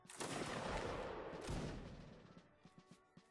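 In a video game line battle, a musket volley erupts as a ragged crackle of many shots, then a second burst follows. Scattered small clicks and knocks trail off afterward, all at moderate distance.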